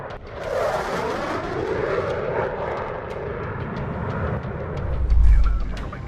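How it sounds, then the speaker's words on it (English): A Sukhoi Su-24 Fencer jet makes an extreme low-altitude flyover in Ukraine, a loud roaring jet rush that builds and swells, ending with a deep rumbling surge near the end. "a Sukhoi Su-24 Fencer conducted an extreme low-altitude flyover in Ukraine"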